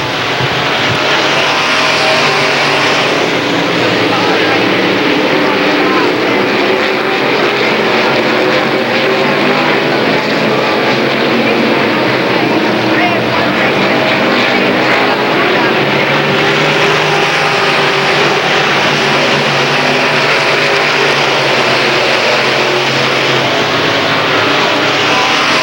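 Limited late model stock cars race around a short oval track in a 1993 heat, with a continuous loud roar of several engines throughout and an announcer's voice faintly under the din.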